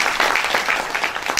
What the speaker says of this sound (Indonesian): Boleh tepuk tangan bagi Tuhan Yesus?